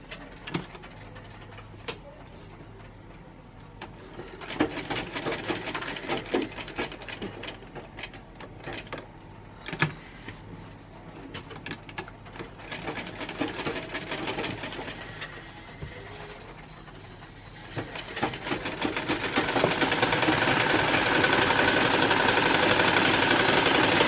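A sewing machine runs in bursts while stitching a dress with a neck tie, its motor whirring steadily and rising to a louder, denser run near the end, with scattered clicks and handling noises between runs and no talking.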